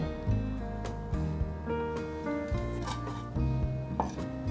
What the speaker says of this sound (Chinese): 红萝卜排整齐，从中间切一半，接着斜切，这样子比较小片